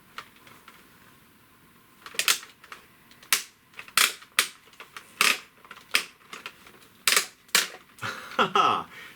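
The ratchet joints of a large Marvel Legends Haslab Galactus action figure click loudly and close by, in a dozen or so sharp irregular snaps as the limbs are posed, ending in a quick rattling burst.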